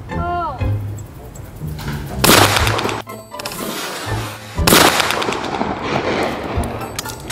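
Shotgun blasts fired at flying clay targets outdoors, two loud sharp reports a couple of seconds apart with a trailing echo, under people talking nearby.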